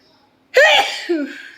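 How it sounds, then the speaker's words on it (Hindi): One sharp, loud allergy sneeze bursts out close by after a brief quiet intake, with a trailing voiced tail as it fades. "जब मुझे एलर्जीज़ वाली छींक आती है तो वो ऐसी आती है"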